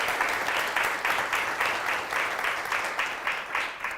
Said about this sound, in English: So we have a round of applause and a thank you to our